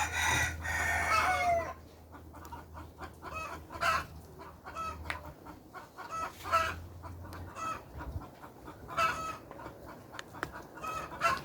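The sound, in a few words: chickens clucking and crowing on Jamaican farm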